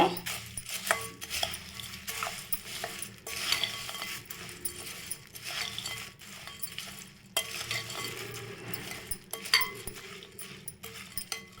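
Masala puffed rice with half a squeezed lemon is tossed and mixed in a bowl, giving crisp rustling and scraping in uneven bursts with short pauses.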